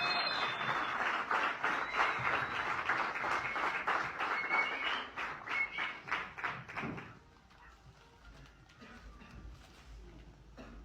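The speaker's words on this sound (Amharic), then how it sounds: "እባካችሁ አሁንም በድጋሚ ሞቅ ያለ ጭብጨባ።" An audience at a tribute evening at Addis Ababa University's cultural centre gives sustained warm applause. The clapping is dense for about seven seconds, then fades to scattered, fainter claps.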